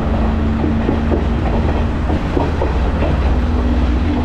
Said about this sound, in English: the train's getting speed up